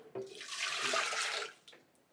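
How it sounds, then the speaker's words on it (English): Nine ounces of water poured into a high-end blender jar (Vitamix or Kuvings CB1000) makes a steady, close splashing rush for about a second and a half, then tapers off with a few drips. "First, pour the water."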